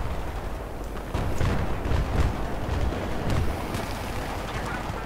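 Explosions in the video game Battlefield 3, deep rumbling booms and blasts rolling continuously over a dense, loud battle-noise bed.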